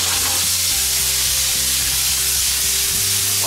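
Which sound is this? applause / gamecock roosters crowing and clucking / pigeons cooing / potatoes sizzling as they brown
potatoes sizzling as they brown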